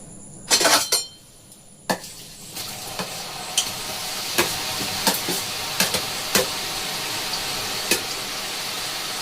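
Nimki dough pieces frying in very hot oil hiss and sizzle steadily, with a clatter of a utensil at the start and occasional stirring clinks and taps, all close by.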